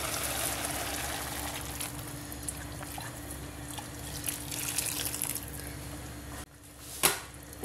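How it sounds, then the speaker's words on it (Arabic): Water from a tap running steadily into a cooking pot for vegetable soup, a constant close splashing stream that cuts off near the end with a brief clink. "نزيد له الماء تاع لابويوار"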